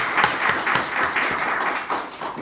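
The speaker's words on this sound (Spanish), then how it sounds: "recibimos a Liliana con un fuerte aplauso" An audience at an evening lecture applauds to welcome a speaker, with a short, steady round of clapping that shows rhythmic pulses and tapers slightly at the end.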